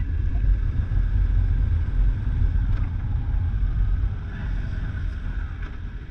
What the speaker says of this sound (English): Can you turn off your bike?